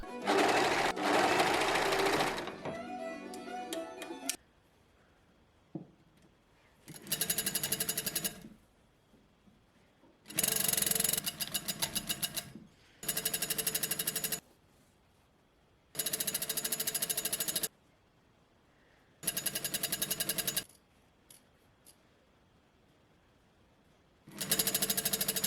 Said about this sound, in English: we're gonna overlock absolutely everything before we sew